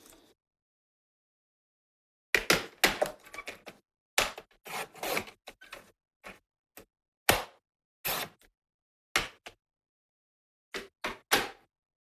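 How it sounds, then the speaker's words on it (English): Craft card being trimmed down to size in a card-making studio: after two seconds of silence, a close, crisp series of short cutting snips and slices, spaced irregularly, with no voices. "let's just cut this down because this would be a silly size card"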